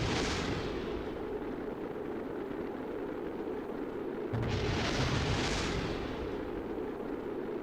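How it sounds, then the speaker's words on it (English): A rocket part blows up in Kerbal Space Program, a deep rumbling explosion surging in midway over a continuous roaring engine-like din, with no talking. "It is supposed to explode."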